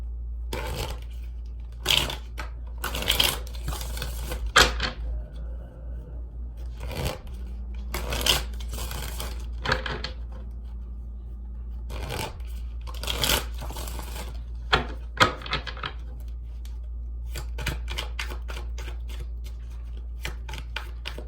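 Tarot cards being shuffled by hand in irregular bursts of papery riffling and tapping, close and fairly loud over a constant low hum, with no speech.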